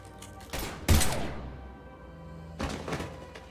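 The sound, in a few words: gunfire in the video game Mass Effect Legendary Edition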